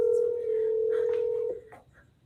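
An unanswered phone call gives a single long, steady ringing tone that cuts off abruptly after a second and a half, with a voice heard faintly.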